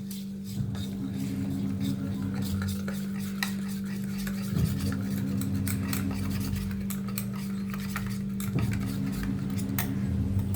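A spoon scrapes and stirs spice masala with ginger-garlic paste in a pan for a bitter gourd gravy, with repeated rhythmic scraping strokes and light metallic clinks under a steady low background hum.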